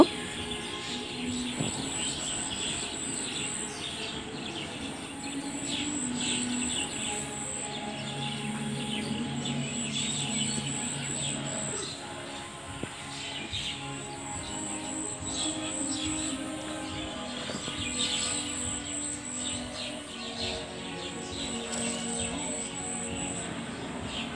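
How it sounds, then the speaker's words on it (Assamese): Faint bird chirps and tweets drift in from a distance over a soft, steady outdoor background hum. "এতিয়া শুনকচোন দূৰণিৰ চৰাই চিৰিকটিৰ মাতবোৰ"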